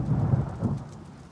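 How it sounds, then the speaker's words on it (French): Heavy rain pours down with deep rumbling thunder, loud and close throughout the short stretch, with no voices. "On peut toujours essayer de l'ignorer, cette pluie."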